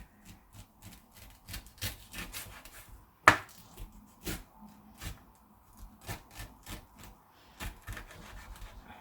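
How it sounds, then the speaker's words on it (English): A knife cuts down through the hard core of a pineapple on a board, making a series of soft, irregular scraping and chopping strokes with one sharper thump near the start, close and quiet. "I'm just going to get the knife diagonally and go down the center"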